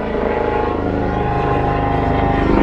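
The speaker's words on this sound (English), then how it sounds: "helicopter going overhead." Helicopter passing overhead outdoors during live wall scraping with a trowel, a steady loud rotor and engine drone filling the whole stretch without pause.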